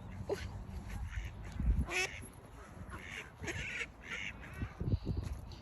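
Several ducks quack repeatedly at a sandy waterside, close and loud, with overlapping calls spread across the clip.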